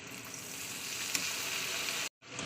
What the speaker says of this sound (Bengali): আদা রসুনটা দিয়ে একটু ভালো করে মাংস কষিয়ে নেবো